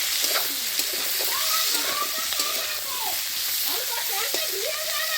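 Spices go into hot oil for a tomato-less cauliflower curry, giving a steady, fairly soft sizzle and crackle that runs throughout while someone talks over it.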